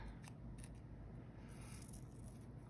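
Scissors cut tape into tiny strips, giving a few faint, quiet snips and rustles over a low steady room hum, with a small sharp click at the very end.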